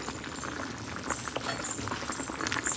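A vegetable curry of eggplant, potato, drumstick stems and fried lentil dumplings bubbles at a steady simmer, a close, continuous soft burble and hiss with no talk.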